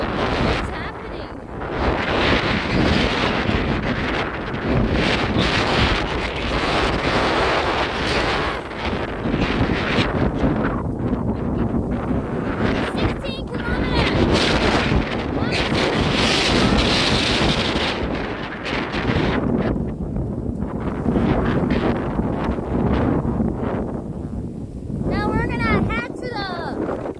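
Strong wind at the edge of a typhoon buffets a microphone outdoors in Xinying, Tainan, Taiwan, a loud continuous roaring rumble with gusting surges throughout, and people talk at times beneath it.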